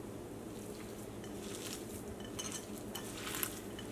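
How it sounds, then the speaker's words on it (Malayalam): Warm potato is mixed by hand into homemade mayonnaise with soft, close squelching and stirring, faint and continuous, with a few light clinks toward the end. "ഉരുളൻകിഴങ്ങ് ഞാൻ ഇതിൻ്റെ കൂടെ മിക്സ് ചെയ്യാണ്."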